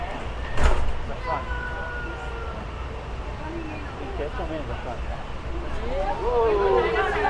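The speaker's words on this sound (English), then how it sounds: "Doors are closing." Honolulu Skyline rail train doors slide shut with a sharp thump, then a rising electronic chime and a whirring motor as the car moves; people chatter faintly in the background.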